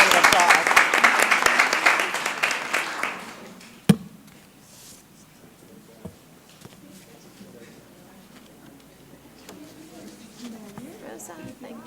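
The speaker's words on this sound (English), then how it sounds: "Let's give them a round of applause" Applause at a city council meeting: a loud, dense burst of many hands clapping for about three seconds, ending with a sharp knock, then fading into quiet room murmur.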